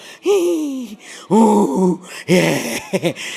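A voice imitates snoring with three drawn-out, groaning gasps followed by a couple of short sputtering breaths, loud and close.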